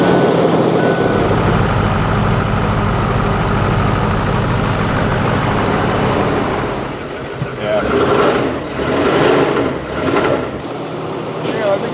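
Ford Power Stroke 6.4L diesel truck engine rumbles steadily and loudly up close while the long truck is maneuvered to back in, with a slight drop and a few hissing bursts in the later seconds.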